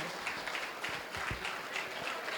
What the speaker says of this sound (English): A round of applause for Aneked.